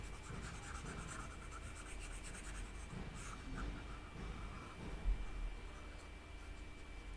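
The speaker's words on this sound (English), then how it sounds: "Okay, let me erase it." A board is wiped clean during a French lesson, making a quiet, continuous rubbing and scratching with one brief louder knock near the middle and no voices over it.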